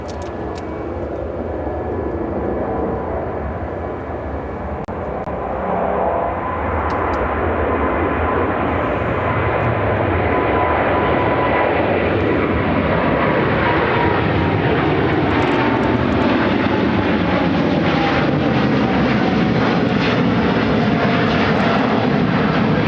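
An American Airlines Boeing 787-9 Dreamliner taking off from an airport runway, its engines rising into a loud, sustained roar that builds and holds steady, heard at a distance with no voices.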